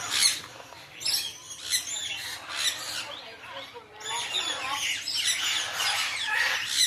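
Lorikeets inside an aviary at a bird sanctuary chirp and screech in a busy, overlapping chorus of shrill rasping calls, moderately close and continuous throughout.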